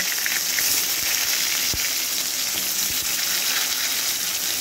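Pointed gourd (parwal) frying in hot mustard oil gives a steady, dense sizzle that fills the whole stretch, with one sharp utensil knock near the middle and a fainter tap later.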